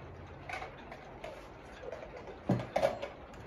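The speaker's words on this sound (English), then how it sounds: "this is an American-made clock, but it has a French look to it" An American-made clock with a French look ticks faintly and steadily against a quiet room background, with a few slightly louder clicks near the end.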